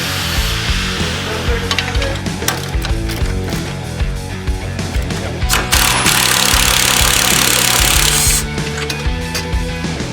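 A power tool hammers loudly at close range, loosening engine mount bolts under a vehicle in a garage, in rapid bursts of rattling impacts that run almost continuously.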